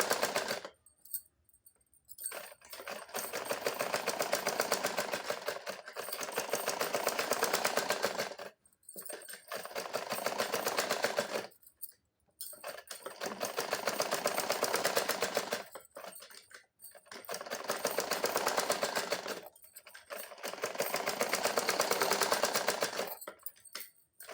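A sewing machine stitching a blouse runs in several sustained bursts of fast, even mechanical whirring, close and steady, separated by short quiet gaps.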